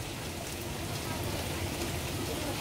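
Heavy rain pours down outside an open door by a laundry room, a dense, steady hiss of falling water and drops hitting surfaces, close and unbroken throughout.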